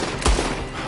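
A burst of gunfire in the video game Red Dead Redemption 2 cracks once sharply and loudly near the start, followed by a short echoing tail and a fainter second report.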